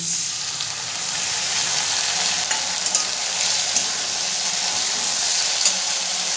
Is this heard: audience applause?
no